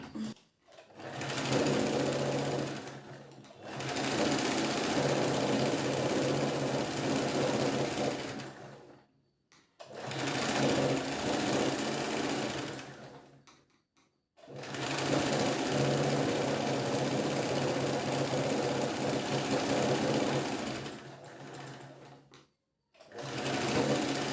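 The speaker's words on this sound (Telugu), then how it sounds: "ఇలా మెయిన్ క్లాత్ని కూడా పెట్టుకొని దీన్ని రెండింటిని అటాచ్ చేసుకుని కుట్టుకుంటున్నాను" A sewing machine stitches a princess-cut blouse's lining and main cloth together, running in four steady, close-up bursts separated by brief pauses.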